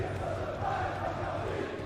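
Esports arena crowd roaring in support of Karmine Corp at an LFL Division 1 League of Legends match, a dense, steady wall of cheering and shouting with no pauses, loud and sustained throughout.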